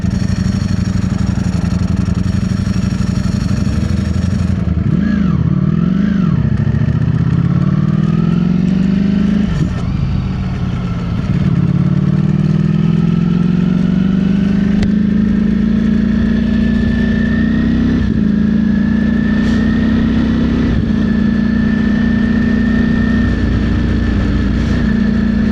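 Ducati Streetfighter V4 SP naked bike's V4 engine rising and falling through gears, with sharp blips on downshifts and a sustained loud drone as it accelerates, recorded close.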